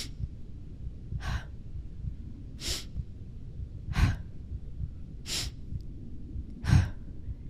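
Slow, deliberate breaths during a guided hypnosis session, five or six audible inhales and exhales spaced about every 1.3 seconds, close and clear over a soft low background.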